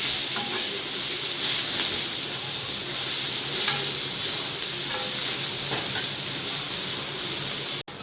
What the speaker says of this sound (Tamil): இப்போ தோசை திருப்பி போட்டுக்கலாம்